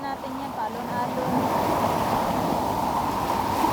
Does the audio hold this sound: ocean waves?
yes